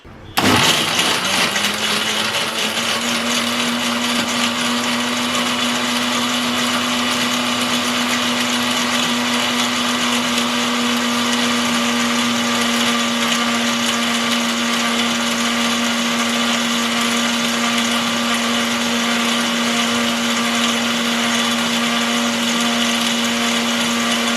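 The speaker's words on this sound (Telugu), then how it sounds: "వేసుకున్న తర్వాత నున్నగా మిక్సీ పట్టుకున్నామండి." A kitchen mixer grinder blends black grapes with cool water into juice, its motor whirring at a loud, steady pitch right up close for the whole stretch with no talking.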